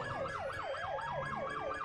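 Ambulance siren in the video game GTA V with the LSPDFR police mod, a loud wailing tone sweeping up and down in quick repeated cycles over a low engine rumble.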